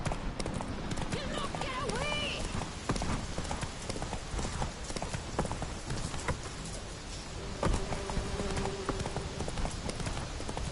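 Galloping horse hooves in The Witcher video game, a steady rapid clip-clop running under game music and effects, with characters' voices talking over it.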